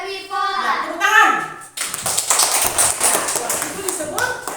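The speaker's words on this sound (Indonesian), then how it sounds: "Ya, tepuk tangan." Young pupils in an Indonesian classroom clap their hands together in a quick burst of taps after answering a teacher, with children's voices and the teacher speaking around the clapping.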